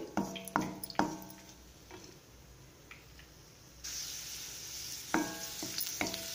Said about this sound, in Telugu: కిస్మిస్ వేసుకొని ఫ్రై చేసుకోవాలి